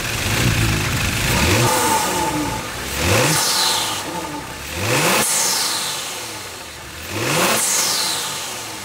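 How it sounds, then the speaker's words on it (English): A warmed-up Kia Stinger fitted with an HPS cold air intake, hood open, revs hard several times; each throttle blip climbs in pitch then falls back to a steady idle between pulls. "Now let's give us some revs."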